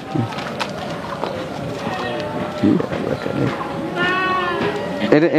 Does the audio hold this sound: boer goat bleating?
yes